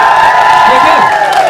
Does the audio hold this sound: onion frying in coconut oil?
no